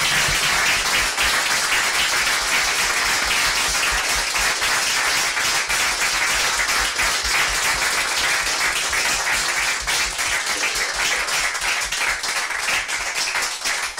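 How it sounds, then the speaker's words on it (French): Sustained audience applause at a round-table session of a Catholic mission congress at Notre-Dame, a dense, even wash of many clapping hands that carries on at full strength for the entire stretch. "Je crois qu'on peut les applaudir"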